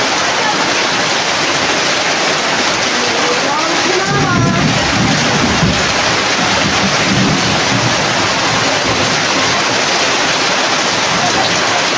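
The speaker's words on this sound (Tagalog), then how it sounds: "ang lakas ng ulan na yan o" Dense, constant roar of heavy rain pouring down, close and loud, with voices briefly audible underneath partway through.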